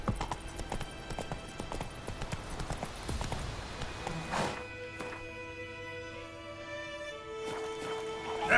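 Geralt's horse Roach trots across ground in The Witcher 3, a steady run of close hoof clip-clops, loud at first and then easing off, with faint game ambience behind.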